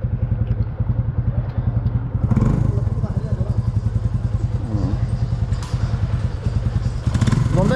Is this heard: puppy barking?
no